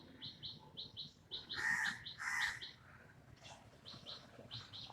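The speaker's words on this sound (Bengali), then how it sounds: "কি সুন্দর পাখিগুলো ডাকছে দেখো।" Birds singing at dawn around 5:40 while it is still dim: bright repeated chirps and short trilling calls, a couple of louder bursts in the middle, moderately near over a quiet background.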